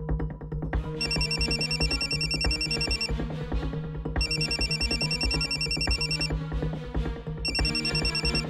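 A telephone rings in three trilling bursts of bright electronic tones, each lasting about two seconds, over steady background music.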